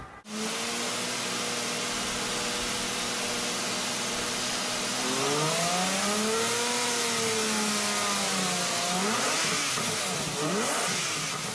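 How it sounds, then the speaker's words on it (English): A Lamborghini 12-cylinder engine hums with a smooth, steady tone, then revs up and down in a couple of swells, close and loud throughout with no voices. "the only music you're gonna want to hear is the song coming from that engine"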